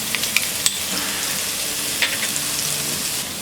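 Cumin seeds and crushed garlic sizzling in hot oil and ghee for kala chana pulao, a steady close crackling hiss with occasional sharp pops and stirring scrapes.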